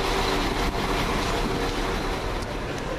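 A Class 172 diesel multiple unit rolls into Stourbridge Junction, a steady loud rumble of wheels and engine with faint rail clatter, heard alone and close by.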